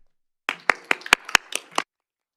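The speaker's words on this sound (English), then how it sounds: "Please join me in a round of applause." Handclaps for Citizen Heroism Life-Saving Award recipients at a Billings city council session: about seven separate, sharp claps, close by and sparse, in an otherwise quiet room.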